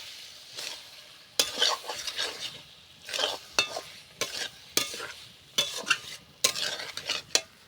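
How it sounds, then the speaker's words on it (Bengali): Vegetables seasoned with salt are stirred in a hot pan: a low sizzle underlies a series of sharp scraping and clinking strokes of a utensil against the pan, coming in irregular bursts about every second. "লবণ দিয়ে একটু নেড়ে নেব।"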